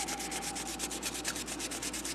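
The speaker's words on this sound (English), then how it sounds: "now I'm sanding this back down, just as a kind of a show and tell how to do this" An epoxy-coated part is sanded by hand in steady, rhythmic back-and-forth strokes, a close, even scratchy rubbing repeated quickly without pause.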